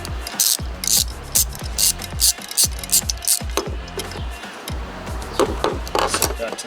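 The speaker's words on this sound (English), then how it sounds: "he's got a 1/4-inch drive and a 3/8 socket deep well, and he's going to go ahead and just remove that needle seat." A 1/4-inch drive ratchet with a deep 3/8 socket backs out the needle seat of an EMPI 32/36 DAFV carburetor from a 1978 VW van, ticking in quick rhythmic bursts close up, with faint talk underneath.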